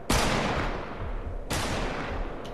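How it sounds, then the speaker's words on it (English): Two loud, sharp gunshots from the Fortnite video game, spaced about a second and a half apart, each with a decaying tail, followed by a faint third crack at the end. "Stop shooting there."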